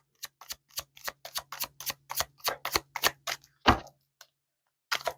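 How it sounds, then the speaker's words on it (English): Tarot cards being shuffled by hand, a close, crisp series of rapid flicking clicks in uneven rhythm that pauses briefly near the end. "I'm going to continue to shuffle and pull the cards out."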